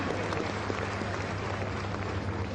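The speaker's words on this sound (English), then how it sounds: "A round of applause for her." Audience at a tree crops investment summit applauding, a steady, even wash of clapping across a large room, fairly distant and uninterrupted.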